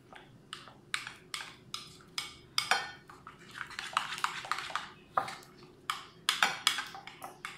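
Chicken salad is mixed in a bowl with a utensil, giving a steady series of sharp clinks and scrapes roughly every half second. It sounds close and fairly quiet, with no talking.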